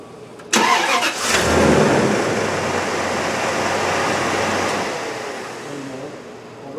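A 1984 Rolls Royce Corniche engine, running after fuel injector replacement, catches with a sharp burst, then settles into a steady, loud broadband idle roar that eases slightly toward the end.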